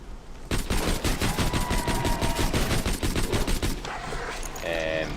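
Rapid pistol fire from the Hyperion Lady Fist in Borderlands 2, a dense unbroken stream of loud close shots for about three seconds, followed by quieter game effects and a short beeping tone.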